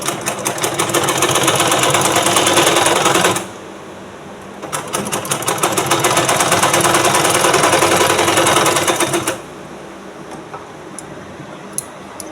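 A sewing machine stitches a blouse in two loud, steady bursts of rapid mechanical clatter, with a short pause between them and a quieter stretch at the end.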